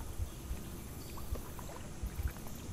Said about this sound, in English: We are kayaking.